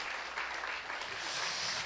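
A church congregation claps together to thank and encourage those who served at a Friday worship service, a steady dense wash of hands filling the room for a couple of seconds.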